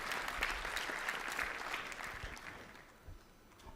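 Modest applause from a tech conference audience, a soft, distant patter of clapping that thins out and fades toward the end.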